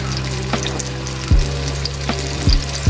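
Koi fish fry in hot oil for a crisp, reddish finish, giving a steady sizzle with a few brief knocks and scrapes close by, no voices.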